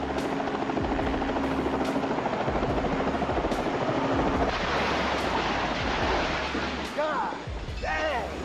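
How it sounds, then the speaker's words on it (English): Helicopter rotor noise during takeoff at an airport hangar, loud and steady throughout, with sharp impacts as the main rotor strikes an open hangar door, and some voices underneath. "a commercial aircraft was substantially damaged when the main rotor contacted an open hangar door during takeoff"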